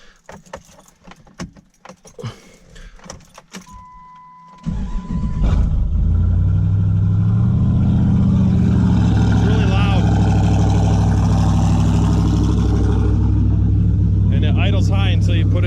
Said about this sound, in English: I can now start it. I'll show the cam noise.